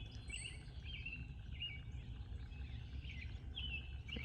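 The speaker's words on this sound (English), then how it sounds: "Hear the birds chirping." Birds chirping outdoors on a Georgia homestead farm in the morning, faint repeated high calls over a quiet low background hum.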